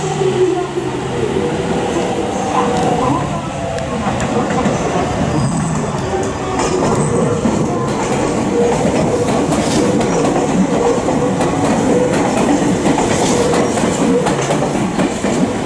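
Train rolling along rails in Nagoya, a steady loud rumble with faint wheel clatter and squeal throughout, heard up close without speech.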